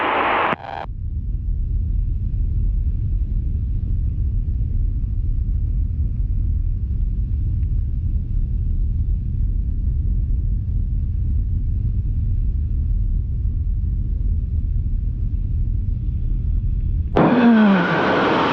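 Light aircraft engine at takeoff power on runway 28 right, a loud, continuous droning roar sustained evenly for many seconds, with brief sharper noises at the very start and end.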